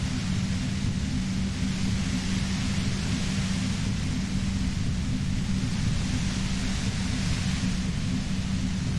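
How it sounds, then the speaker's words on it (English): White noise static in Disco Elysium roars as a dense, steady hiss with a heavy low rumble, unbroken and loud for the whole stretch, with no voices. "You hear through the white noise. It's especially bad suddenly."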